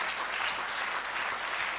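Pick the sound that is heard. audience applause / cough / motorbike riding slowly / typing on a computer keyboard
audience applause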